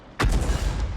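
A tank cannon fires in World of Tanks during a Bishop match on the Province map: one sudden, loud, close boom with a long rumbling tail and no talk over it.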